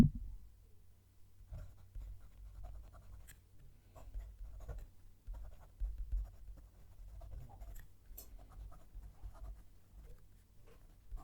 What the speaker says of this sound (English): Going to move the mic down to the page and write the sentence.